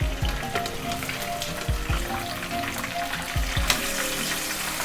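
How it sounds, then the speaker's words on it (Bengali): Chicken chaap pieces fry in oil in a pot, one piece at a time, with a steady close sizzle and crackle and occasional low bumps, and no talking. "আমি 1 পিস করেই ভেজে নিচ্ছি, সবগুলো একসঙ্গে দিলে নষ্ট হয়ে যাবে।"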